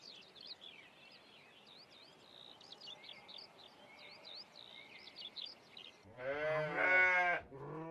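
Native sheep in the Bohemian countryside give one loud, close bleat near the end, after a long stretch of faint chirping birds over a quiet outdoor background.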